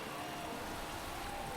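Rain in the racing management game Motorsport Manager, a faint, steady hiss of falling rain that holds unchanged throughout, with no voices.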